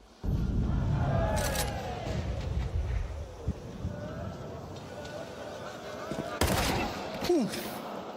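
Counter-Strike 2 gunfire, including a headshot, comes as a sharp opening burst of rifle shots followed by scattered cracks and another shot near the end, with a commentator talking over it.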